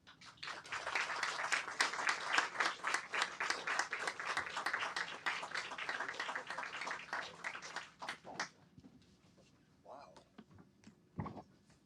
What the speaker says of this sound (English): Please join me in welcoming Jelani Cobb and Jake Tapper